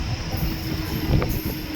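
Steady rumble and rattle of a local commuter train running at speed, heard from inside near an open door, with wind-like hiss and a faint metallic squeal, no voices.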